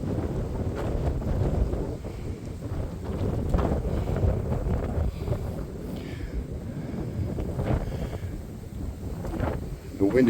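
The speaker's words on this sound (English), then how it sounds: "The wind is coming right at our face right now." Strong wind of over 30 mph buffets the microphone on an exposed hilltop at a state park, producing a continuous deep rumbling roar that surges and dips throughout.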